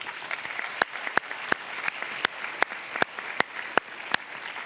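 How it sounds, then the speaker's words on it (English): A conference audience gives a round of applause: a soft, thin bed of clapping with distinct sharp individual claps standing out at irregular intervals. "So give everyone another round of applause."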